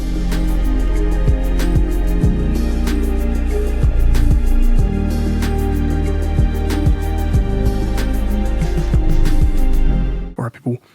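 West Coast type beat built as a remake of a song, with a steady thumping bass line, repeating percussion hits and sustained synth layers that play loud and continuous before cutting off abruptly near the end.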